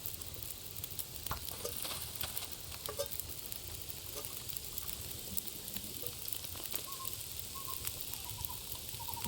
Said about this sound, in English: Fresh boiling water.